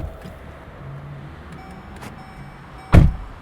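A car door slams shut once, close and sharp, near the end, after a few seconds of low idling engine hum and faint mechanical clicks from a parked car.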